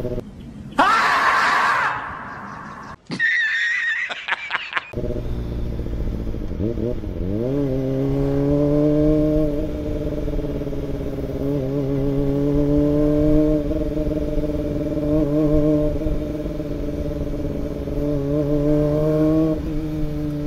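A Kawasaki ZX-25R motorcycle engine revving up and holding high, shrill revs for a long stretch, loud and close, preceded by a few seconds of scattered voices and clatter.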